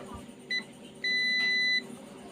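Two electronic beeps from a digital multimeter's continuity buzzer, testing a rice cooker with no power: a short chirp, then a longer steady tone lasting under a second, over faint background hum.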